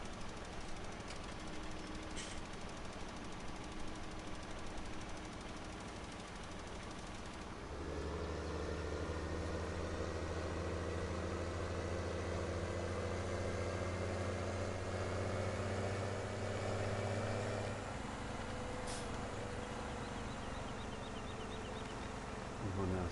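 Steady droning tractor engine from Farming Simulator 2017, pulling a sprayer, runs throughout and grows louder and deeper near the start before settling back slightly toward the end.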